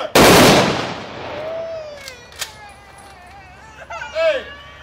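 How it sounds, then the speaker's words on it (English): A rifle volley at a high school memorial service: one sharp, loud gunshot crack right at the start that decays into echo, followed by faint shouted commands and quieter voices. "Ready. Aim. Fire."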